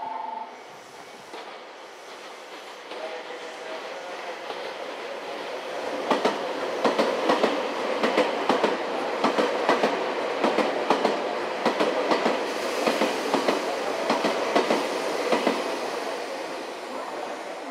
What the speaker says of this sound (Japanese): まもなく1番線を電車が通過いたします。